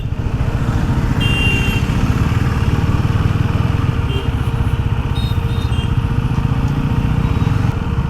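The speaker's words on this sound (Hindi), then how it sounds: "ये ड्यूक जो है ट्रैफिक में चला लेता हूँ" A KTM Duke motorcycle engine runs loud and close while riding in traffic, a steady rapid throbbing pulse with little change in pitch and faint higher noises around it.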